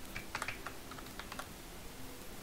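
Someone types on a computer keyboard with a few quick, faint, close keystroke clicks in an irregular burst, then quiet room noise.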